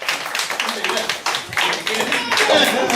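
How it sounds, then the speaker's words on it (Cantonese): Clapping at a Christmas party, a crowd applauding in a steady, dense patter that swells slightly toward the end, with voices mixed in underneath. "俾多啲掌聲啊"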